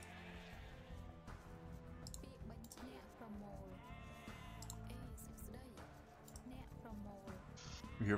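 Sheep bleating in a strategy video game, several faint overlapping bleats mixed with game sounds and effects, heard alone without talk.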